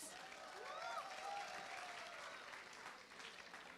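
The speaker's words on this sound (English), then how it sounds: "let's give them a huge round of applause" A crowd applauds continuously, with a brief rising whistle cutting through the clapping near the start.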